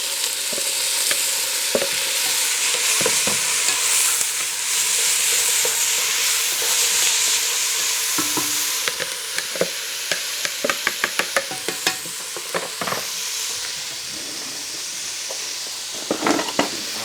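Washed rice is tipped into sizzling vegetables for a Cajun pilaf, producing a loud, close hiss and a rattly rush, followed by a series of sharp clicks and scrapes from stirring in the pan.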